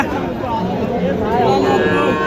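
Cattle at a livestock market, with a low drawn-out moo rising over busy crowd chatter and people talking nearby.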